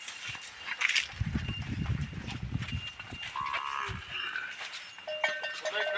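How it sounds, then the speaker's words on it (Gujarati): Kankrej cows and a bull on a farm in Kutch give a deep, drawn-out low bellow near the middle, set against open farmyard background with scattered fainter calls and rustling. "ગાયોમાં ઢાલિયો નામ છે"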